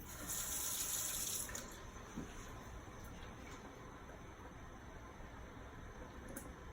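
Tap water runs steadily through a Kangen K8 water ionizer during a rinse, a continuous faint hiss and flow with a brighter gush in the first second and a half, no voices.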